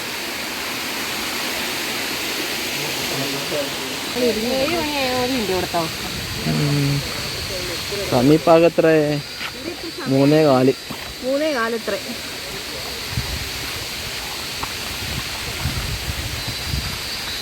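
A small jungle waterfall at Gunung Pulai, Johor, Malaysia rushes as a steady broadband hiss, with someone speaking intermittently over it in the middle.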